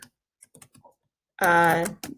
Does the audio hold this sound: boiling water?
no